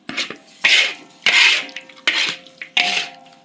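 A spoon scrapes around a cooking pot while a chili powder paste is stirred: five distinct rasping strokes in a regular rhythm, close and fairly loud.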